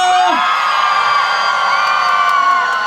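A festival crowd at the Imsil N Cheese Festival concert cheers and whoops loudly, a dense sustained roar of shouts and high-pitched screams with no pause.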